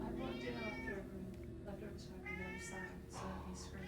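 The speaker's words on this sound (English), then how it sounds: "It's a loud cat." A loud cat meows in Vampire: The Masquerade – Swansong, giving several drawn-out, wavering meows over a low steady background hum.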